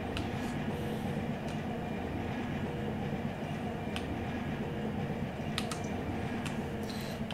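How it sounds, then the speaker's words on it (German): A local freight train rolls slowly into place in the Run8 train simulator, a continuous low rumble of wheels on rails with scattered faint metallic clicks and clacks over it. "Und den Zug hier gemütlich reinrollern lassen."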